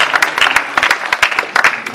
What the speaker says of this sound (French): veuillez l'applaudir encore davantage